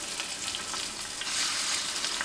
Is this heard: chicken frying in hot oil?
yes